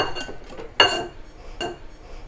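A kitchen bowl clinks sharply as it is set down, followed by a softer second knock of dishware, two short close sounds in a quiet room while making a Christmas plum cake.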